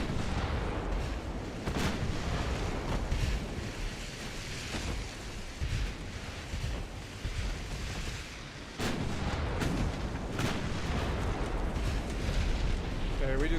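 Heavy naval artillery in the warship game Ultimate Admiral Dreadnoughts, a 9.1-inch shell hit among repeated booming gunfire over a constant sea-like rumble, with a strong impact near the middle.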